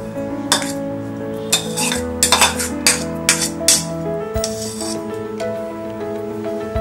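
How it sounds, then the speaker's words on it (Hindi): Grated carrot and mixed vegetables with lemon juice are worked together by hand in a metal bowl, giving irregular clinks and scrapes over a steady background hum. "इसे हाथों से मिक्स कर देते हैं।"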